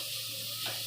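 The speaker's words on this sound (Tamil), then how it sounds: "இனி அது கொஞ்சம் நல்லா ப்ரௌன் கலரில் வர வரைக்கும் வெங்காயத்தை வதக்கிக்கணும்" Onions with green chilies sizzle and are stirred in a pan while cooking aval upma, a steady close frying hiss lasting about a second with a brief scrape at the end.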